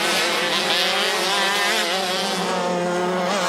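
KZ2 racing karts at the CIK Trophy of New Zealand scream past on track, a loud, continuous high-revving two-stroke buzz with wavering pitch throughout.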